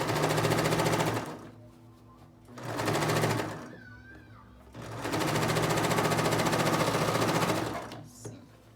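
A sewing machine runs in three bursts, stitching a seam on a child's jacket, with a short spoken pause between the runs. It sounds close and loud, a fast steady mechanical whir.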